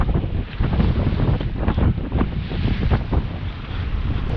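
Sailboat motoring at sea under engine alone, sails not set, heading toward the Fowey River against spring tides: a loud, steady engine rumble blended with strong wind noise and wash of water, continuous throughout.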